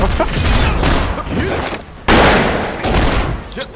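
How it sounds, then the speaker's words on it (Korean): An ice mine detonating in the video game Cyphers, a loud, dense burst of explosive noise amid ongoing combat effects, with a sharp second blast near the middle and a sustained roar after it. "얼음 지뢰 터져"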